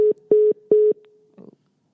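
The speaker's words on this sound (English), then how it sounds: "let's answer Kiara Daddy phone call" Telephone call tones sound in three evenly spaced pairs of short, steady beeps, loud and clear, followed by a brief soft clatter before silence.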